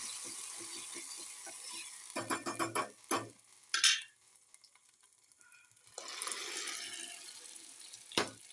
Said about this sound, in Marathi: थोडंसं पाणी टाकून घेतलं पाहिजे